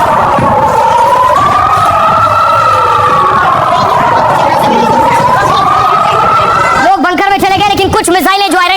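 Air raid sirens wail in a slow rising and falling tone across an Israeli city during a missile attack, loud and continuous, with crowd noise and voices underneath and a burst of clattering commotion near the end.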